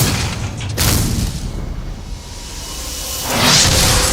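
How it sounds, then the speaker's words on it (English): Shells from 4-inch naval guns strike a U-boat's forecastle in two deep booming blasts, the first with a rushing whoosh and the second swelling near the end, loud and close without speech. "The shells slam directly into the forecastle in a brutal strike."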